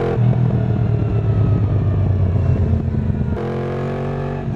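A Yamaha MT-10 SP with a crossplane inline-four engine from the R1 roars loud and close, with a rough, pulsing exhaust note that changes pitch partway through, alone without talking.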